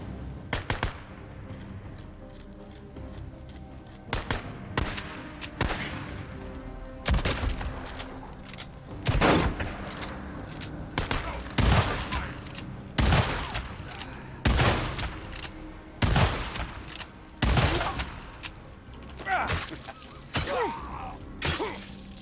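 Rifle gunfire in the post-apocalyptic motorcycle game Days Gone: repeated loud sharp shots, some in quick bursts, spread irregularly across the stretch with brief gaps between volleys.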